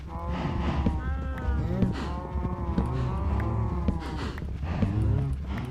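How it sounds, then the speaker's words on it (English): Cows in the video game Minecraft moo repeatedly in overlapping calls, several animals lowing close by one after another throughout. "we are just going to hear the sound of cows"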